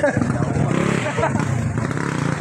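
A trail motorcycle engine idles and putters close by with a rough, uneven rumble at a motocross event, while people talk over it.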